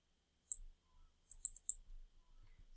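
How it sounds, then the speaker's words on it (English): Computer mouse clicks while editing in Filmora video software, a few faint, sharp taps with a quick double click among them, close and quiet, with no speech. "I'm double clicking on that in the purple box again."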